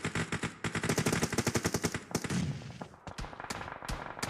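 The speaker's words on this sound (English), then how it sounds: "Fearless Girls firing in some warning shots, playing it around the edges." Bursts of rapid automatic gunfire from warning shots in the battle royale game BGMI, loud sharp cracks in quick rhythmic strings, then a pause and scattered single shots, with no talk over it.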